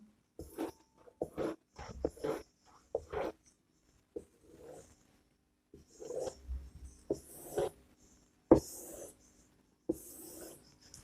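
Handwriting on paper while working out the electron structure of helium, short scratchy pen strokes in irregular bursts with quiet pauses between, close and soft, no speech over it.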